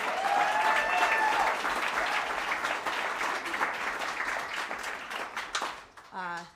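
Audience applause at a live music venue, a small café concert, with steady clapping and some cheering that fades toward the end, where a voice begins speaking.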